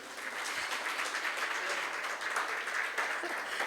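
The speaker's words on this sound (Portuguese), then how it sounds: "E eu queria uma salva de palmas para os meus pais." Applause from a church congregation honoring the speaker's parents, a steady, dense wash of many hands clapping that holds evenly throughout without a break.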